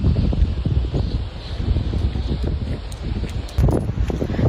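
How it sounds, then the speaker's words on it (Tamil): Wind blowing outdoors on a quiet, deserted morning walk, heard as loud rumbling buffets against the microphone with rustling, gusting unevenly throughout and strongest near the end. "காற்று சவுண்டு"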